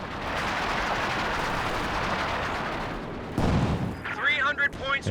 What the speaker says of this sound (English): Panzer IV shooting at the machine gun